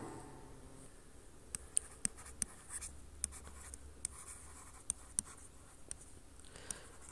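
Lecturer writing words on a board during an economics class on inflation controls, sharp separate taps and scratchy strokes at an irregular pace, close and fairly quiet against a low room hum.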